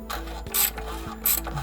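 A wrench or ratchet clicks in short bursts while an oil drain plug is tightened just past snug during an oil change, with a faint low hum beneath and two brief louder scraping spurts.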